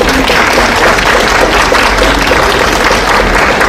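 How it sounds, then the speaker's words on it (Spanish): Loud, dense applause from a conference audience welcoming a veterinary speaker at a talk on sterilization myths and realities, a steady wash of clapping filling the whole stretch with no voices on top. "pido un fuerte aplauso"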